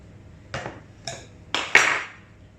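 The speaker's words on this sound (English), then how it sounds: "Now I always scrape with a knife" A knife scrapes and taps against a bowl or pan while making pie crust dough, four short sharp clinks growing louder, the last one ringing briefly, over a quiet background.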